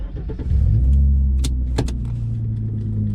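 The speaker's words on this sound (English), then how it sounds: "So let me turn on the car real quick." Manual stick shift car engine cranking over briefly and catching, then settling into a steady low idle rumble, with a couple of sharp clicks and clunks near the start.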